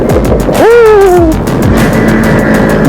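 Engine braking on a Yamaha R3 motorcycle, a loud close engine note that jumps up on a downshift and then falls away steadily, followed by a low engine rumble.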